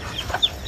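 A chicken makes a couple of soft, quick clucks, close by, over faint background noise.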